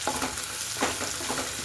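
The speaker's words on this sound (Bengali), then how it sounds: "ভালো করে মশলাটাকে কষতে কষতে" Onion, tomato and ginger paste masala frying in a pan for a Bengali cauliflower curry, a soft steady sizzle with a few faint scrapes of stirring, alone and fairly quiet.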